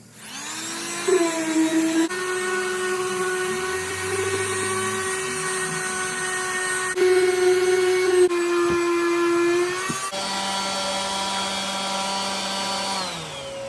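A power tool smooths out wood left scarred and uneven by earlier angle-grinder paint removal, giving a loud, steady high-pitched whine that runs continuously throughout, shifting pitch slightly as the load changes, with no talk.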